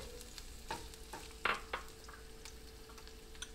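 Jalapeno peppers tossed into hot olive oil in a saute pan give a quiet, steady sizzle, with a few scattered clicks and taps from utensils, one brief louder rustle midway.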